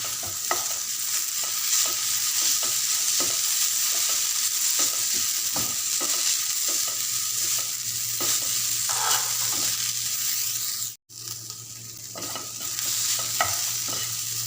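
Chinese potatoes stir-fry in a pan as turmeric powder goes in, a constant loud sizzle broken by repeated scraping strokes of a spatula stirring the pieces.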